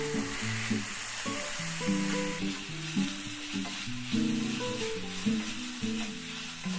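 Chopped tomatoes for a bread egg masala sauté in a pan, producing a continuous moderate sizzle with soft stirring underneath a steady layer of background music.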